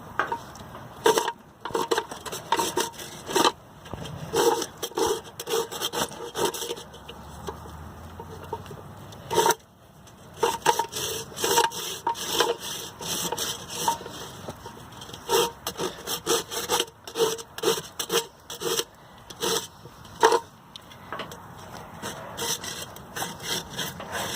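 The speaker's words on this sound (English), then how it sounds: "And I'm beveling off her toe a little bit more" A rasp works the toe of a horse's hind hoof during a barefoot trim, making repeated rhythmic rough filing strokes, close and loud, with a short pause partway and faint clucking in the background.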